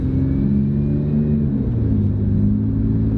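A used GM car with a 200-horsepower engine drives along, its engine rumbling steadily and loudly from inside the cabin as it gets moving, with no talk over it.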